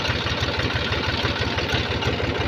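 A New Holland tractor engine idles with a steady, rapid low thumping pulse that runs evenly throughout and stays close and fairly loud, with no talk.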